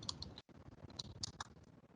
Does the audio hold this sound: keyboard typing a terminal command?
yes